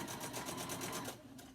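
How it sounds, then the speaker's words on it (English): A sewing machine runs a top stitch on a cloth face mask, a rapid rhythmic whirring chatter of the needle that holds steady for about a second before easing off, close and quiet. "Just doing a top stitch."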